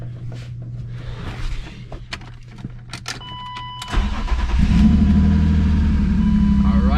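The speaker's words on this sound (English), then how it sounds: "A really nice sounding engine now. Cold start" A BMW E36 M3 engine cold start: it cranks and catches, then settles into a steady idle. Quieter clicks and faint talk come before the start.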